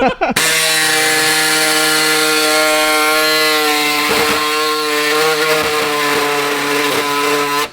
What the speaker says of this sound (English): They've upgraded the air saw since the last video